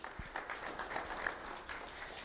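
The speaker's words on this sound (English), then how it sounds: "Round of applause for Luz Francisco" Faint, distant applause from an audience at a sheriff's office award ceremony, a soft steady patter of clapping without a break.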